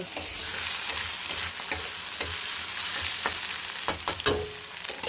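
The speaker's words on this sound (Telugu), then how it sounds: "ఇది ఫ్రై అవుతుంది కదండి ఇది కొంచెం పచ్చి వాసన పోయేదాకా ఫ్రై చేసేసుకోవాలి" Ginger-garlic masala sizzles steadily in a pan for a fish curry, with scattered stirring scrapes and clicks over the constant close frying hiss.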